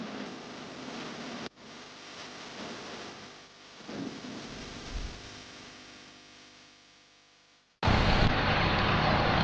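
Steady hiss of rain and wind during a motorcycle ride on the Khandala ghat, a broad rushing wash that shifts in loudness, then a sudden louder roar near the end, with no talk.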